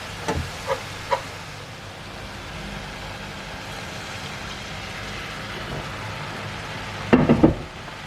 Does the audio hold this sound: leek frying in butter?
yes